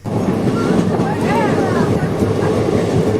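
The Mayurakshi Express train rumbles steadily along the tracks at speed after leaving Mallarpur station, with a continuous loud roar and rhythmic clatter of wheels throughout.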